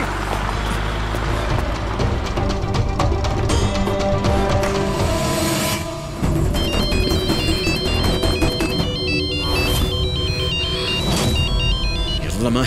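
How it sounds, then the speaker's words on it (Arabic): Telephone ringtone playing a repeated electronic melody through the second half, loud against background music and engine noise, with people talking over it. "والله ماهي، ردي على التليفون."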